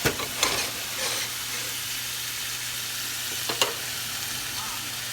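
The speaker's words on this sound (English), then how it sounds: "I'm gonna cook that with some butter and garlic." Zucchini noodles frying in a pan with butter and garlic give a steady, soft sizzle, broken by a few brief clatters of stirring, close by and fairly quiet with no talking.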